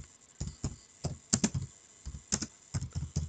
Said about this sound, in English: I type hi,